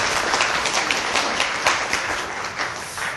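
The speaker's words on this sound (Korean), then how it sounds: "박수 또 쳐주시니까" Audience clapping at a lecture on senior business and design, a steady wash of many hands with slight swells, moderately loud and continuous.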